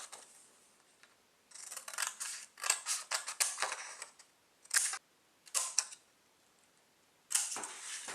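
Scissors snip through paper in short crisp bursts, several quick cuts in a row followed by pauses and a few more single snips, close and fairly quiet in an otherwise still room.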